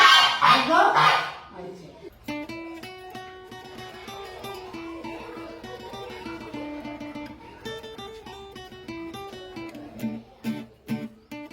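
A pet duck, trained and said to go to school, gives loud honking quacks in a close burst at the start, then falls silent while music plays on.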